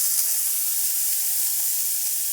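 A pork chop sears in clarified butter in a stainless steel pan over medium to medium-high heat, producing a steady, close, bright sizzle that holds evenly throughout with no talk.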